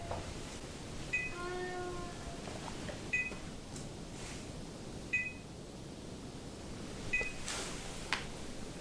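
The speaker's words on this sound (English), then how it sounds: "That sounds like somebody is saying meow." A short electronic meow-like chirp, followed by sharp beeps repeating about every two seconds over a steady background hiss.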